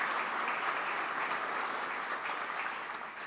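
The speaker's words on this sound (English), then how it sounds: "Give them a round of applause." An audience at a club meeting gives steady, dense applause that holds evenly for a few seconds and fades slightly at the end.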